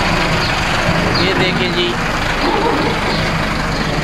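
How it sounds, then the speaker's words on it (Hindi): A decorated tractor's engine runs in a busy morning bazaar in Khadimabad, a rough constant rumble mixed with dense street noise while someone talks over it. "इतना सजा सजाया ट्रैक्टर"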